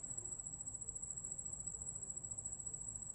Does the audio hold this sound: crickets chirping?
yes